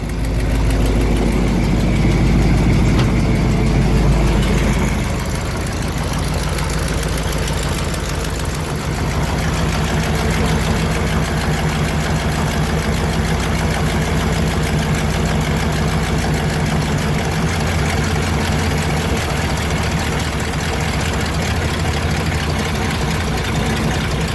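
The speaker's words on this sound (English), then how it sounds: "That's how the new exhaust sounds, right?" A 1970 Pontiac LeMans/GTO engine idles steadily through a new exhaust with a low rumble, a louder rev at the start settling into a constant even drone.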